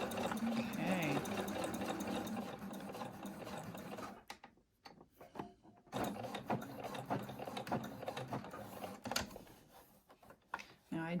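A domestic sewing machine runs steadily at speed while a double needle hems knit fabric, close and loud, then stops briefly for a few seconds before whirring again with light mechanical clicks; a voice speaks faintly during the run.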